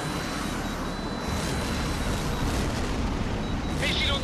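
A missile strikes its target in the jet combat video game H.A.W.X, a sustained roaring blast and rumble filling the mix, with a brief radio beep near the end.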